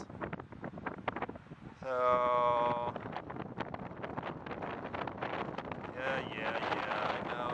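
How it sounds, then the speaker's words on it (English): Gusty wind blows outdoors on a cloudy day at a small drone's first flight, buffeting the microphone with rough, uneven rushes. Someone talks over it, and brief whining tones cut in now and then. "Every little gust you do is just a little bit stronger."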